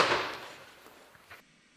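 A shotgun cartridge fired at a target about 15 metres away, one sharp blast at the start that decays quickly into a fading tail, followed by faint small knocks.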